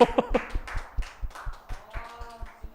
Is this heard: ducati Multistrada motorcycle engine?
no